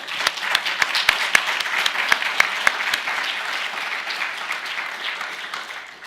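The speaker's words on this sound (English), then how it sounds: "give her a round of applause" An audience applauds after introductory remarks at a fintech keynote event, a dense, steady wash of clapping with a few sharper claps standing out early, holding level for about six seconds and easing slightly at the end.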